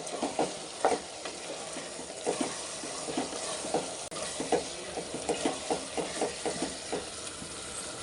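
Ginger garlic paste is stirred into chicken curry in a pan: soft repeated scraping strokes at a steady rhythm over a quiet, constant sizzle.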